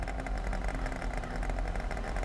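A V6 car engine with an aftermarket exhaust idles nearby in a steady, throbbing rumble that holds even and unbroken throughout, with no voices over it.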